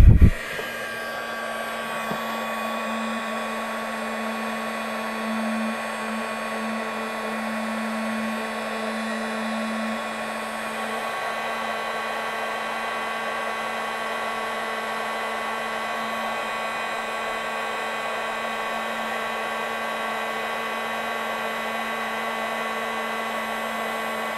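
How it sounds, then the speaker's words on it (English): An embossing heat gun blows steadily for the whole stretch, a loud, constant whirring hum that starts abruptly and holds nearly unchanged, with no talk. "So I'm going to use my embossing gun underneath to emboss it up."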